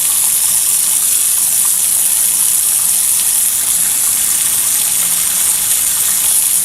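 Lab water tap running to drive a vacuum setup for solvent evaporation, a loud, steady, hissing gush of water that continues without a break throughout.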